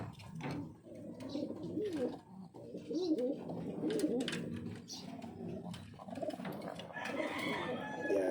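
Gamefowl in a breeder's loop, with roosters crowing and birds clucking and cooing at a moderate distance amid ambient outdoor noise.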